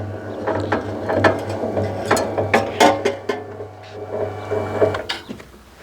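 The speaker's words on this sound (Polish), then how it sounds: "Zobaczmy jak maszyna sobie z tym nim poradzi." An EN10 cable stripping and recycling machine runs on a roughly 2.5 mm² wire, giving a steady mechanical hum with repeated sharp clicks and clatters as the insulation is cut and stripped close by.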